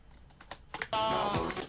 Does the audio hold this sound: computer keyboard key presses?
yes